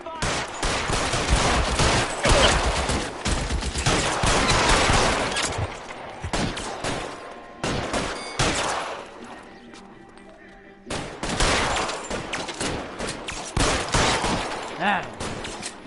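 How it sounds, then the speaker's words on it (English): Rapid bursts of gunfire in the shootout-heavy video game L.A. Noire, loud and dense volleys crackling almost without pause, with a short lull near the end before firing resumes; voices shout over the shots. "Open fire!"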